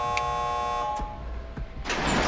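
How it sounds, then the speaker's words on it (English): A video game warning tone sounds as a steady harmonic buzzing drone for about two seconds, then gives way to a burst of broadband noise, with no talk over it. "Got the warning sound."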